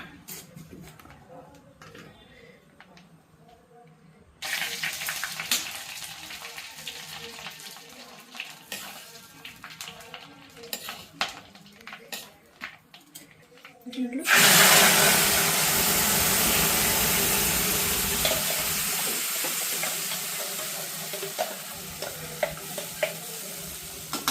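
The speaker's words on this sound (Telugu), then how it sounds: "ఈ నేతిలో ఈ పాలకూర గ్రేవీ ఉడకాలి బాగా" Spinach gravy cooks in ghee in a pan, starting with quiet stirring and then breaking into a loud, steady sizzle that slowly eases, with someone talking over it.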